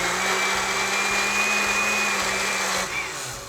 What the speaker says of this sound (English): Let's throw that on the blender.